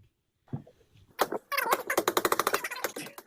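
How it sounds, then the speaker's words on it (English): A hammer repeatedly strikes a hard-to-break window, a fast burst of sharp, close knocks after a few scattered bumps and noises. "forgot how hard it was to break this window, like actually trying to break it"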